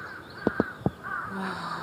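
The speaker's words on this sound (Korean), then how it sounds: "까치 소리" A magpie calls outdoors on a spring day among cherry blossoms. It gives three sharp, harsh caws in quick succession, then softer chattering sounds follow against quiet background air.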